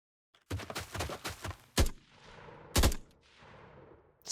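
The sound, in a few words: gunfire from a video game, three-round burst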